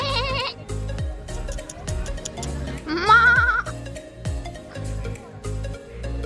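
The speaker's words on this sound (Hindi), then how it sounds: "ये है अलग-अलग टाइप की बकरी" Several goats at Darjeeling Zoo bleat repeatedly, with loud wavering calls close by and overlapping, while people talk quietly in the background.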